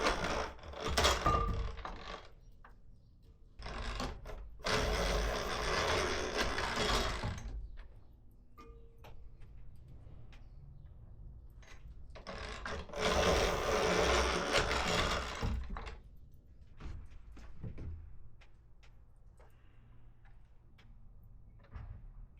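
An antique 1890 hand-cranked apple processing machine rattles and whirs in two long, busy bursts of mechanical clatter, separated by quieter handling clicks and pauses.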